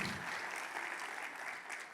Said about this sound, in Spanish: Dale un aplauso al Señor si tú quieres cumplir el propósito.